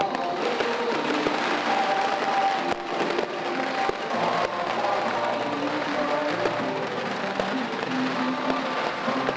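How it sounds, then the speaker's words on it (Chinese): Firecrackers and fireworks crackle and pop without pause during a street procession for the sea goddess Mazu in Hsinpu, with sharp cracks over a loud, dense roar and crowd noise. "爆竹烟火之声不绝于耳，一直要等到午夜之后才会停息"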